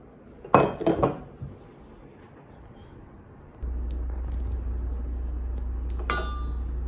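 Lightweight enamel cereal bowls clink together as they are stacked, two bright close clatters early and another at the end, with a steady low hum starting partway through.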